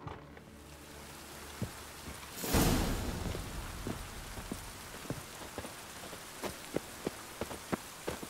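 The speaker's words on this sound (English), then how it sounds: "And it's raining again." Steady rain patters across surfaces in The Witcher 3, a continuous wash of drops with a brief louder gust around the third second and scattered sharp drips or taps punctuating the rest, no voices.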